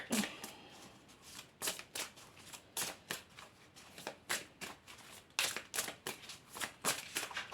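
Oracle cards being shuffled and drawn, a close, quiet run of crisp riffling and papery flicks in quick bursts, with no talk.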